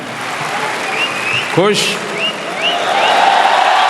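Crowd of expatriate Indians claps and cheers for Modi in an arena, sustained applause with a whistle and a short shouted voice rising over it, loud and close.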